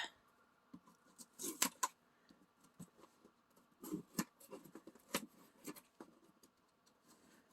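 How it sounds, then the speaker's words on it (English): Scissors cutting open an Amazon package of watercolor pencils up close: quiet, irregular snips, crinkles and taps of cardboard and plastic, with no speech. "let me grab my scissors and let's open this up"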